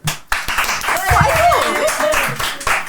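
Audience clapping at a live talk show recording, a burst of hand claps mixed with loud voices and laughter, near and lively, tapering off at the end.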